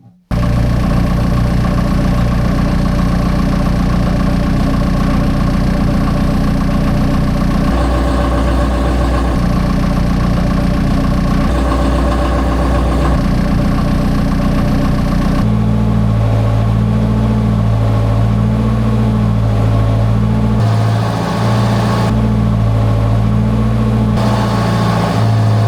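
A yard machine's engine idles steadily in a sound test, a loud, continuous low mechanical drone with shifting tonal hum and slight changes in revving, running alone without speech for the whole stretch.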